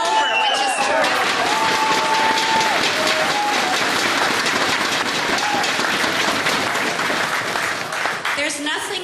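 A large crowd packed across a plaza at a Liberal campaign rally claps and cheers loudly and continuously, a dense wash of applause with scattered whoops, while a voice speaks over it.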